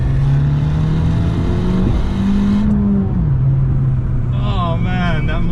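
A car engine drones steadily, its pitch rising and shifting as it revs, loud and close, with the raspy note of an Abarth 695 70th Anniversario's Monza exhaust throughout.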